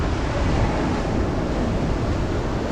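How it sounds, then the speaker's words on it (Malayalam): Sea waves surging and breaking at Pulimuttu beach in Kozhikode, a continuous loud roar of surf with wind buffeting the microphone, no voices. "ഇതൊരിക്കൽ തിരമാല അടിക്കുന്ന നോക്കിയേ"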